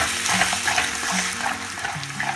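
Yogurt being stirred into a raw turmeric curry in a ghee pan, a constant sizzle with scraping stirring strokes close by.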